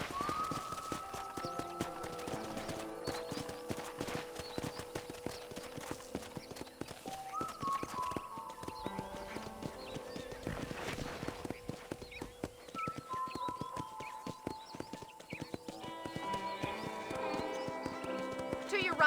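Horse hooves clip-clop in a steady rhythmic gait throughout in Red Dead Redemption, with a voice talking intermittently over the trotting and some game music tones.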